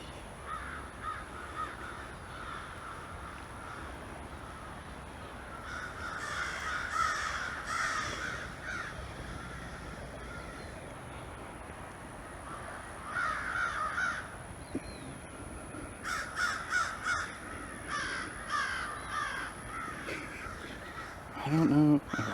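Crows cawing in a cemetery in Metairie, Louisiana, repeated bursts of harsh caws at moderate distance, several clustered calls separated by quieter outdoor ambience.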